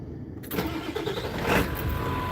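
A pickup truck engine cranks and catches after a brief quiet moment, then settles into a loud, steady rumble close by, with no talking.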